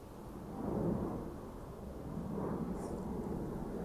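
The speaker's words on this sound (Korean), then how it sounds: "비행기 소리." An airplane passes overhead while hiking on a forested mountain trail, a low, broad rumble that swells and fades over a few seconds, fairly faint, with no talk.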